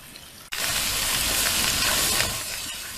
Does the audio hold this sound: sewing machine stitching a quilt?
no